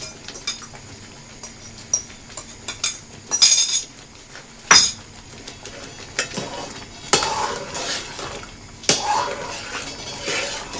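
A metal spoon scrapes and clinks against a pan while egg semolina halwa is stirred, giving irregular close scraping strokes and sharp taps spread across the stretch, with no talking.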